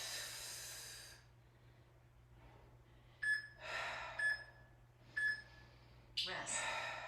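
Deep inhaling during a yoga class, with a few audible breaths drawn in and out at close range. Three short, faint beeps sound between them over a steady low hum.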